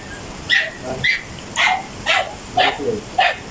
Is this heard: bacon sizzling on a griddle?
no